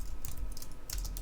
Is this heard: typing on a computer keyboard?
yes